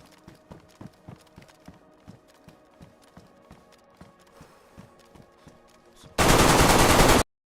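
Rapid automatic gunfire sprays in a multiplayer survival shooter game, a steady burst of sharp shots over about six seconds, followed by a sudden loud wash of broadband noise at the end.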